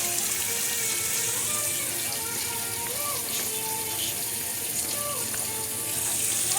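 A kitchen tap runs steadily while hands are washed, a continuous close splashing stream with light clinks and movement throughout.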